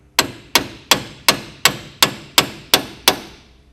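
A hammer taps a spindle into place on a Dana 44 front axle during a wheel bearing replacement: nine sharp metallic knocks, evenly spaced about a third of a second apart, loud and close.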